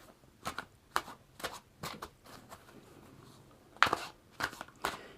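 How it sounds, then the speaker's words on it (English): A Game of Thrones tarot card deck is shuffled by hand, about a dozen crisp riffling bursts close to the microphone, separated by short quiet gaps. "Give them a good shuffle, as they haven't been used for a while."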